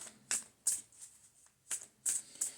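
Quick riffling bursts of a card deck being shuffled, several crisp fluttering bursts in a row with short gaps, close and fairly quiet.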